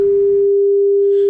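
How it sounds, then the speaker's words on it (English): A steady 400 Hz sine wave test tone holds at a constant pitch and loudness, pure and unbroken from start to finish. "This is a sine wave of 400 Hertz"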